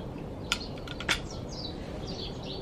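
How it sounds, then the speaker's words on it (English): Faint birdsong chirps and whistles drift in from a distance over steady outdoor background noise, with a couple of brief louder clicks early on. "can you hear the birds as well?"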